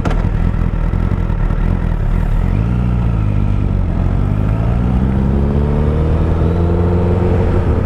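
A motorcycle ridden in figure eights, its engine loud and close, droning steadily and then rising and falling in pitch as it speeds up and slows through the turns.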